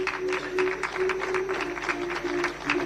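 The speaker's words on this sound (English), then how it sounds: "the strength of our claps, the sound should not stop" Audience at a meditation leaders' conference claps steadily and continuously, a dense rippling wash of many hands with a faint sustained tone underneath and no talking.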